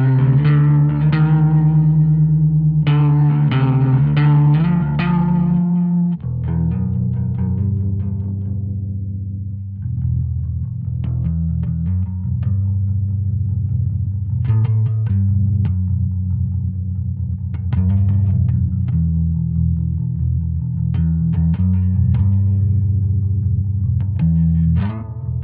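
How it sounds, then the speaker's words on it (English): Electric bass through a Two notes Genome 1.5 with full chorus effect, playing sustained low notes and short plucked phrases, loud and close, steady throughout with no talking. "And then if you take that off, it's full chorus."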